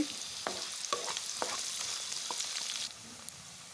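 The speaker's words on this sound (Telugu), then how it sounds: "అలాగే పచ్చిమిర్చి ఆనియన్ని కూడా కొంచెం మెత్తగా అయ్యే వరకు ఉడికించుకోవాలి" Green chillies and onions fry in hot oil for a potato kurma, giving a steady broadband sizzle broken by spoon scrapes and stirring clacks, close and fairly loud, easing slightly near the end.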